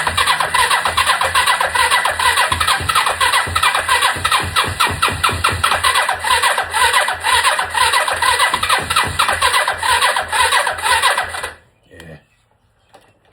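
A Kawasaki KZ300 motorcycle engine fires and runs loud and close, with a rapid uneven rattling idle and some roughness, then cuts off abruptly near the end.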